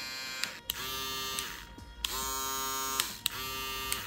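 Stylecraft Prodigi electric shaver running, a close buzzing motor hum in bursts separated by short clicks and brief pauses, with no talk.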